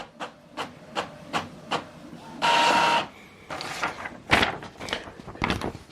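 An Epson XP-5200 inkjet printer prints a test page, with a series of evenly spaced mechanical clicks and clunks, a loud whirring paper-feed burst, then more irregular knocks and rattles close by.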